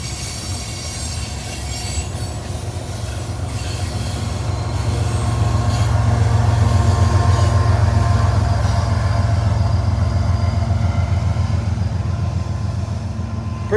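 CSX freight train M513 with a DPU locomotive rolls past near Kelly, Kentucky, as a heavy close rumble builds and holds, with squealing wheels and rhythmic clacking over the rails.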